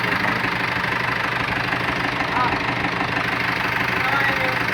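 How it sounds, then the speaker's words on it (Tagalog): Foton Tornado Euro4 truck engine idling with a steady, even diesel rumble and faint knocking throughout, close and constant with no change in pace. "So, patayin mo na makina"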